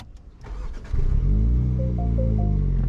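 A 2021 MINI Hatch John Cooper Works engine, 231 horsepower, cranks briefly, catches, and roars to life, then settles into a loud, steady idle up close.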